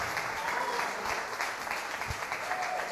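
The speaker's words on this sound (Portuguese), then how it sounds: "faz uma salva de palmas ao Senhor. Pode aplaudir ao Senhor mesmo" A church congregation applauds in praise during a Portuguese-language service, steady dense clapping filling the room at moderate level, with faint voices mixed in.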